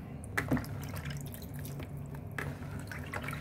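Water splashes and drips over chicken soup herbs being rinsed, a close, intermittent patter that continues throughout.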